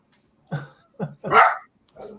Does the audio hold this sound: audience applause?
no